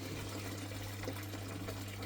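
Water drains from a gold prospecting pan with a steady, soft rushing and trickling wash, faint and continuous over a low background hum.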